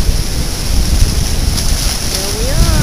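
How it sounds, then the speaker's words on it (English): Ocean waves rolling onto the beach at Gulf Shores, a loud continuous surf roar with heavy wind buffeting the microphone and no pauses. "We go back and check out the waves again."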